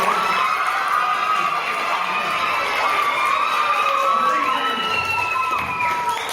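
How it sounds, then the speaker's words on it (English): A crowd of children cheers and shouts loudly and continuously, a lively wall of high-pitched voices filling the space. "Get round of applause."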